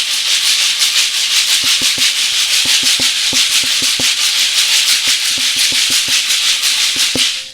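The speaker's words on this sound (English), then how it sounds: "this particular Kayamba also has a beautiful sound" A kayamba, a flat raft-shaped shaker, is shaken in a steady, rapid rhythm, producing a bright, dense rattling swish that stays loud and close throughout, with faint low taps underneath.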